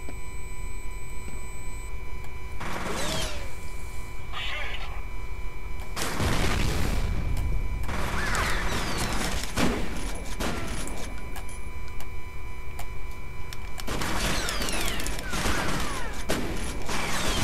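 Gunfire from the video game F.E.A.R., with several loud bursts of shots and booms between quieter stretches of mechanical game ambience, close and forceful with no voices over it.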